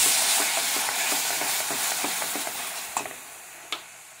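Hot caramel bubbling and hissing as a cornstarch and water mixture is poured in and stirred, a steady loud sizzle with soft rhythmic scraping and a couple of sharp knocks near the end.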